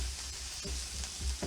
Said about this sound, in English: Take your mushrooms and drop them right in the onions there. And give that a good stir.